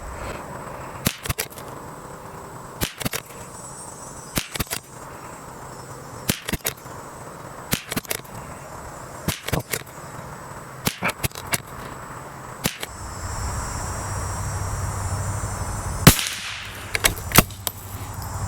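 Sharp .22LR rifle shots from Aguila bulk ammunition crack out one at a time at irregular intervals, fairly close and loud over a steady outdoor background, with a few quicker doubles near the end.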